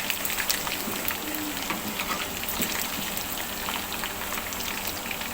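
Chicken pieces fry in hot oil in a pan, a dense, steady crackling sizzle like rain on a surface, close and even throughout with no voices.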